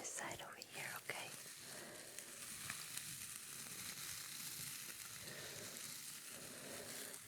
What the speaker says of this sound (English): Kind of a brushing sound.